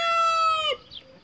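A Brahma rooster gives a single drawn-out, steady-pitched call lasting under a second, close and fairly loud, then falls to quiet with faint background noise.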